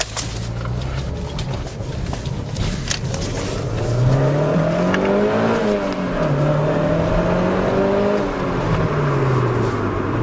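A Toyota MR2 GT-S sports car engine drones and revs steadily, its pitch rising and falling as it accelerates and shifts, heard from inside or close by with no talking.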